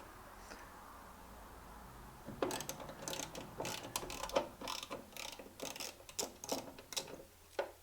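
A ratchet loosens the bolts of the rear grab handle on a 1943 Willys MB, giving quick, close, rhythmic clicking bursts that start after a quiet opening and repeat steadily.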